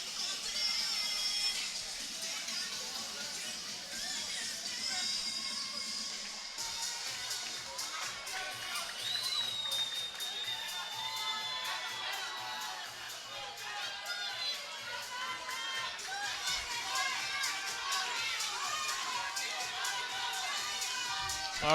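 A crowd cheers and shouts throughout a championship fight between rounds, a dense, steady roar of many voices filling the arena, with an announcer's voice talking over it.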